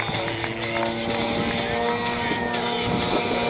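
A propeller aerobatic airplane drones continuously as it recovers from an inverted flat spin at an airshow, its engine note steady and moderately loud, with a commentator talking over it.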